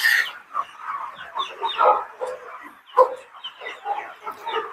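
A flock of chickens recovering from a wheezing respiratory illness and eye infection cluck and call busily, with overlapping close clucks and a sharper squawk partway through.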